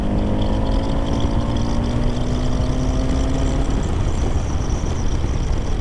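A Kawasaki Z900RS motorcycle accelerates in sixth gear from 30 mph toward the national limit, its engine note a steady, rising drone with layered harmonics climbing gradually under constant wind rush.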